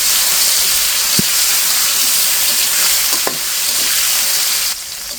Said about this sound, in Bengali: বন্ধুরা মাছটা কিন্তু একদম ভাজা হয়ে গেছে